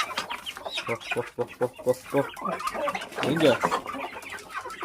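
Chickens cluck and chatter close by in a busy, uneven stream of short calls, with a person briefly speaking among them.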